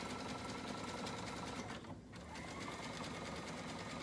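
A sewing machine runs a steady zigzag stitch to join elastic for a women's pajama shorts waistband, a fast, continuous mechanical whir with one brief dip midway, heard up close with no talking.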